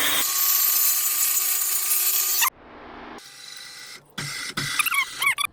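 A power tool grinds rust from a car underbody in preparation for a 2-post lift, loud and steady for a few seconds, then stopping and giving way to a quieter hum and short bursts of workshop noise.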